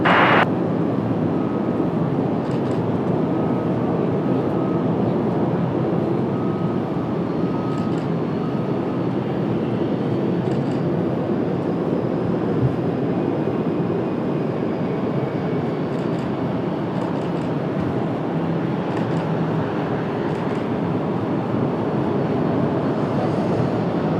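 A Boeing Dreamliner from Chicago at Washington Dulles on a cloudy day, a steady broadband engine roar that holds loud and even throughout with no voices over it.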